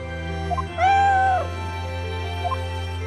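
Eve the cat from the Professor Layton vs Phoenix Wright video game gives a single clear, drawn-out meow, close and loud over a steady low game soundtrack, with faint chimes before and after.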